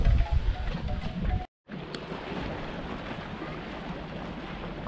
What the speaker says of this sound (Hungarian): remélem hallani, amit mondok, mert rohadtul fúj a szél